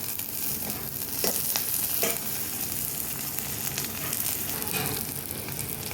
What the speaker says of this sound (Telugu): ఇదిగండి ఉల్లిపాయలు వేగినవి.